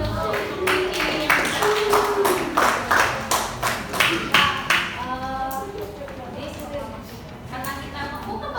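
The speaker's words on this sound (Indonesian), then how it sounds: "beri tepuk tangan dulu untuk Cici" Students in a classroom clap for a classmate in a short burst of rhythmic, fairly close clapping that fades out after about five seconds, with a voice speaking over it and carrying on afterward.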